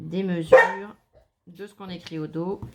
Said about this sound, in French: Je suis vraiment désolée pour les aboiements